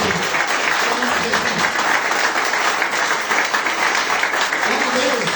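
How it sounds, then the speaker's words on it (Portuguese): A church congregation at an evening worship service claps loudly and continuously in praise, a dense, sustained roar of hands with murmured voices mixed in beneath it. "Então dá uma ação de palmas para Jesus nessa noite."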